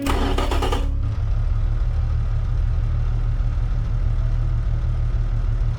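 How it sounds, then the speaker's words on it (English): A car engine in the Automation game runs steadily with a low, continuous drone and a rough knocking undertone, preceded by a brief bright burst in the first second; no talking. "The engine is knocking and reducing its reliability."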